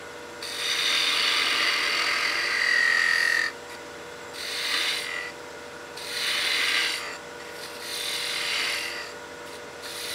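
Spindle gouge cutting wood on a lathe while a baby rattle is turned, rasping bursts of tool against spinning wood that come and go in several passes over a steady motor hum.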